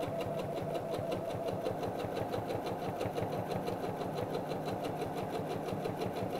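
A sewing machine stitches a fabric Valentine's heart bag, running with a steady, rapid, even mechanical rhythm close by. It is fairly quiet and continues without pause, with no talking.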